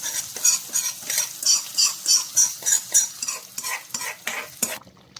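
A tempering of curry leaves and green chillies frying in a pan, stirred with a metal spoon: rhythmic scraping strokes about twice a second over a bright sizzle, close and clear, slowing and thinning out toward the end.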